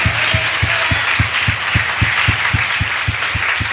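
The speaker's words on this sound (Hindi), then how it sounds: "या जिसने भी चिटुर पुटुर ताली बजाइए, अगर हिम्मत है तो जोर से बजाओ" An audience at a Christmas church gathering claps together in a steady, regular rhythm, about four claps a second, fairly loud and sustained across the whole stretch with no talk over it.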